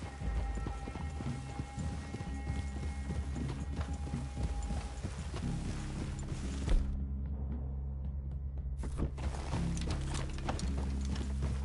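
Horses walk along in the Red Dead Redemption 2 video game, their hooves giving a steady, clip-clopping rhythm under low ambient wilderness tones, with a short break before the footfalls resume.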